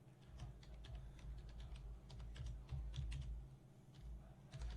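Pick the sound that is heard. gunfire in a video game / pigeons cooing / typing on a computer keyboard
typing on a computer keyboard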